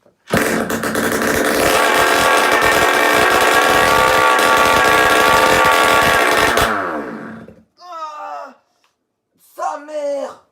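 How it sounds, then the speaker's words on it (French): An 80cc motorcycle engine being rebuilt fires up and roars loudly for about six seconds with heavy, rough revving, then cuts out abruptly, followed by two brief bursts of a person speaking. "Là j'ai juste à cliquer hein, et elle démarre."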